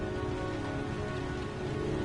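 Steady, dense rain falls in the video game Heavy Rain, a continuous loud hiss of drops on surfaces with no breaks and no voices.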